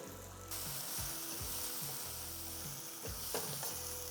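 Tomato, onion and ground spices frying in a pan, a steady close sizzle joined by repeated scraping, clattering stirs at an uneven rhythm, with no talking.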